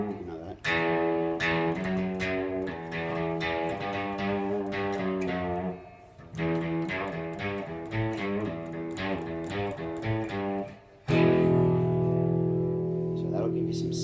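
Electric guitar plucked right next to the bridge with the volume turned down for little distortion, bright snappy notes and chords played continuously for about fourteen seconds, close and fairly loud, with a brief pause midway.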